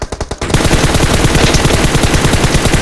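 Rapid automatic gunfire in PUBG Mobile rattles continuously and loudly after a few opening single shots, a dense, steady burst of shooting.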